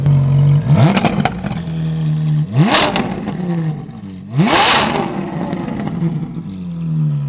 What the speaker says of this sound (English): Okay, Mr. Kalen, let's hear some revs.